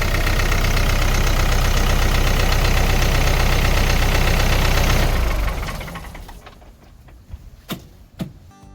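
Agúna 754 tractor engine running loud and steady, throttle held up for about five seconds before dropping away to a low idle, with a few faint clicks and knocks afterward.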